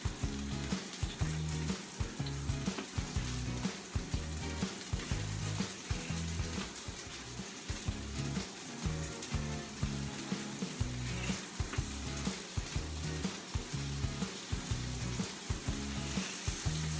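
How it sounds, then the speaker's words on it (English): Chicken searing in a very hot pan, a loud, continuous sizzle with rhythmic scraping and stirring bursts throughout. "It's sizzling away."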